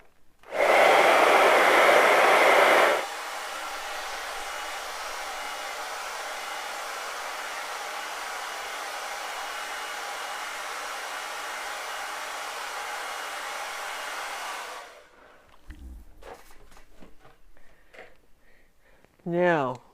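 A hair dryer blows on an acrylic snowman painting: a loud, close burst for about three seconds, then a steadier, quieter whoosh running until it cuts off near fifteen seconds, followed by faint handling noises and a brief voice.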